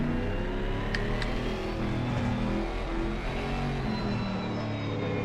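A pack of GT race cars rolling on a formation lap at Imola in Assetto Corsa Competizione, a steady layered engine drone with shifting tones, close and continuous with no talk.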